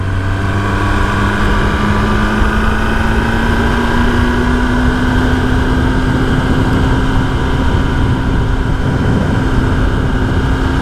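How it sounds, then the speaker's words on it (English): A 2023 ZK-10RR motorcycle with stock exhaust idles steadily with a low, rumbling exhaust tone that holds constant throughout, loud and close. "Even the actual stock exhaust notes, beautiful."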